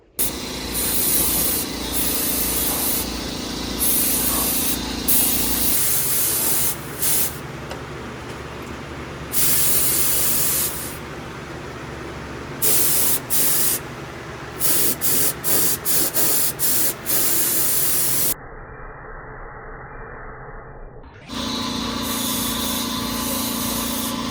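A paint sprayer hisses in long, close, loud bursts while coating the undercarriage of a Fox Body Mustang during a restoration, with short gaps between passes and one longer quiet stretch.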